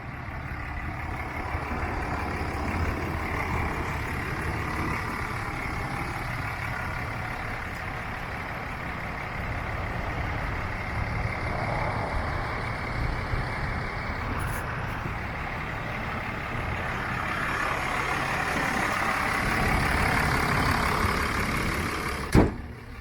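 A 2012 Ram 2500 diesel pickup idles steadily with a low, continuous rumble at moderate distance, holding even for the whole stretch with no talking, ending in a brief sharp bump.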